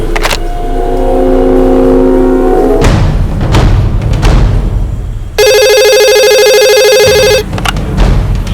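A telephone rings with a bright electronic trill lasting about two seconds in the TV crime drama Crime Patrol, following engine rumble and a few thuds; no one speaks.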